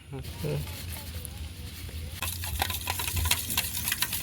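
A spoon stirs sugar into a bread omelette egg mixture in a bowl, making a steady scraping, clinking swish that gets louder and busier in the second half, under a low background hum.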